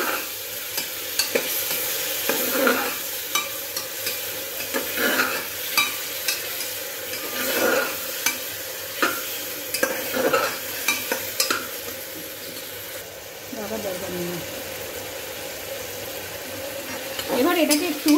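Ginger garlic paste fries and sizzles in a pan for a vegetable pulao, with a steady hiss and repeated scraping stirs recurring throughout, fairly close and loud.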